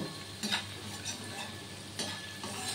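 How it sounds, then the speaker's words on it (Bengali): Palm fruit fritters (taler bora) deep-fry in hot oil with a constant bubbling sizzle, broken by occasional spatula scrapes and light clinks in the pan; no talking. "এইভাবেই আমি সব তালের বড়াগুলো ভেজে নেব।"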